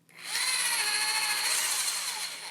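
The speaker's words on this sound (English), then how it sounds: "when you start drilling into it, you hear that wood cracking as it sort of grabs onto it" A power drill bores into a wooden chess piece, a loud steady whine starting abruptly and holding for a couple of seconds with a rough, grinding edge as the bit bites into the wood.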